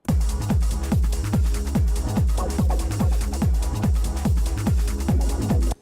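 A ride cymbal processed with a transient shaper in an Ableton drum mixdown, sitting in a full loud groove with steady kick and drum hits repeating in a driving rhythm, the cymbal's sustain trimmed short.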